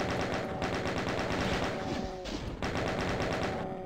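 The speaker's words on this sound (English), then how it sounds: "Did I not just get a rocket launch? No, that was a chain gun." Rapid chaingun fire from the video game Ultimate Doom rattles in dense, continuous bursts, loud and close, with a brief break near the middle before the stream of shots resumes.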